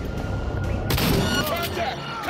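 Shotgun blasts in Cyberpunk 2077, a loud burst of gunfire in a short stretch of game combat with a voice talking over it.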